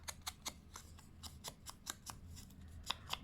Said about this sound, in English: I've got to use these beautiful scissors.